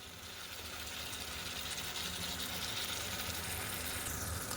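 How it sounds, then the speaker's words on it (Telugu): Tomato paste, salt and chili powder being stirred in a hot pan for a prawn and egg curry, giving a steady, dense sizzle that holds level throughout without talk. "నీట్లో టమాటో పేస్ట్ ఉప్పు కారం అన్నీ కూడా బాగా కలుపుతున్నానండి"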